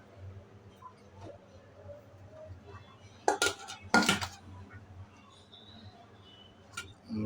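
Chopped onions tipped into a cooking pot of beef curry, giving a few sharp metallic clanks and scrapes of utensil on pot in the middle, with quieter kitchen clatter around them.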